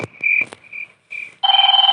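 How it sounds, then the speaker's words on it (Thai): A telephone ringtone from a computer in a survival game plays loud and close: warbling electronic tones in short bursts, then a steadier pulsing two-tone ring. "ใครโทรมาวะ โทรศัพท์"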